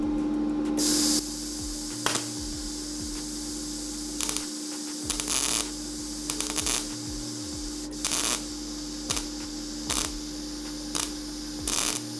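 Primer sprays onto welded metal seams in repeated short hissing bursts separated by pauses, heard close over a constant low electrical hum.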